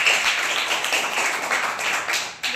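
Children clapping their hands in a classroom during a maths lesson on telling time, a steady, dense patter of claps close by that continues throughout.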